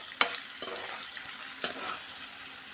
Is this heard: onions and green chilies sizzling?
yes